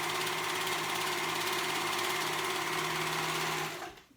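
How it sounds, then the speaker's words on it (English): A serger sewing machine stitches around pocket edges on a romper or dress, a loud continuous high-speed whirring hum that runs steadily and then winds down to stop. "I'm gonna use my serger for that"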